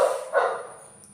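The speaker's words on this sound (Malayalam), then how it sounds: "ഞാനിവിടെ സംസാരിച്ചു തുടങ്ങുമ്പോഴേക്കും അപ്പുറത്തെ വീട്ടിലെ പട്ടി കുരയ്ക്കാൻ തുടങ്ങും." A neighbouring house's dog gives two short barks at a moderate distance, then falls quiet.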